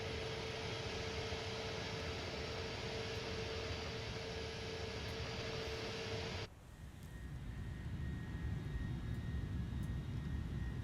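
A twin-engine Cessna 310 in Microsoft Flight Simulator gives a steady, loud engine drone with broad hiss. About two-thirds through, it shifts abruptly to a thinner, quieter tone that gradually builds again, with no voices.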